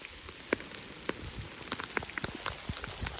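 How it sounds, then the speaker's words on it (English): Steady rain falls outdoors, with raindrops pattering on surfaces close by. A dense, continuous hiss carries scattered sharper drips and taps, and no one speaks. "Rain is getting worse, but we just walked the worst part"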